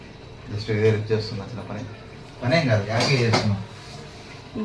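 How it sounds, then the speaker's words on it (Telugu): Dishes, pots and utensils clink and clatter as they are washed at home, heard beneath people talking. "ఇప్పుడు మా నాన్న గిన్నెలు కడుగుతున్నారు"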